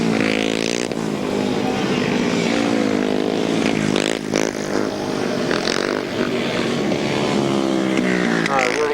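Grasstrack racing motorcycles roar past together with rising and falling engine whines, loud and continuous, with a commentator's voice over the racing.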